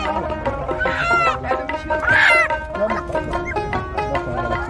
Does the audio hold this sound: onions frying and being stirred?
no